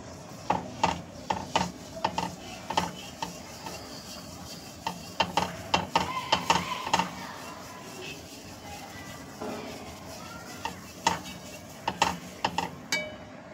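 A spoon stirs ghee through a shahi pedha sweet mixture in a pan, giving repeated scraping, tapping strokes in uneven bursts with a soft sizzle underneath at close range.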